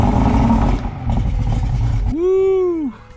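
A Yamaha outboard boat engine is cranked over with choke and battery power, then catches and runs with a loud, steady hum lasting under a second before cutting off, following a rough, noisy stretch at the start.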